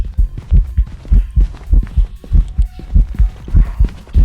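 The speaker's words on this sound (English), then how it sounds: "It was slow there, loud heartbeats" Loud, slow heartbeat sound effect from the Phasmophobia ghost-hunting video game, a steady run of deep double thumps repeating roughly every half second, close and prominent with no speech.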